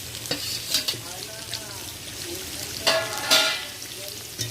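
Sliced onions, tomato and green chillies sizzle in hot oil while a spoon stirs and scrapes through them, giving bursts of louder frying hiss and clatter over a steady crackle.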